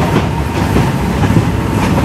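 Inside a passenger car on a long overnight train, a loud, steady rumble carries a faint rhythmic clickety-clack from the wheels and rails, with no talking.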